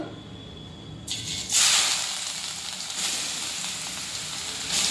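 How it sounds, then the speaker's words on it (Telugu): Finely grated beetroot drops into hot oil for halwa: a quiet start, then a sudden loud burst of sizzling hiss that settles into a steady, close frying roar. "బీట్రూట్ అనేది మొత్తం ఇట్లా సన్నగా తురిమి పెట్టాను దీనిని వేసేద్దాం ఆయిల్లో"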